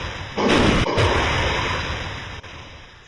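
Rocket engines fire in Kerbal Space Program, a sudden loud roaring rush that holds steady and slowly fades over a few seconds, with a brief dropout partway through.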